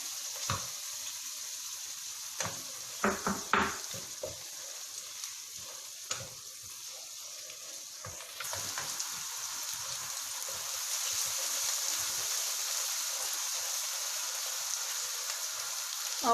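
Carrots tipped into a hot pan for vegetable fried rice: a few sharp clatters as they drop in, then a rising, steady close sizzle of frying that swells in the second half.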